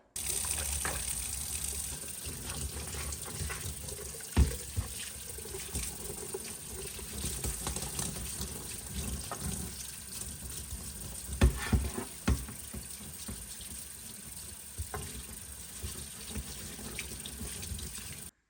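Tap water runs steadily into a sink while a fiberglass mold part is rinsed off, a soft continuous gush with occasional knocks and clunks of the part being handled.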